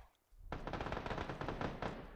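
Rapid automatic gunfire in the video game PUBG on PS4 bursts in after a short pause and keeps up as a dense, loud, continuous stream of shots with no other sound over it.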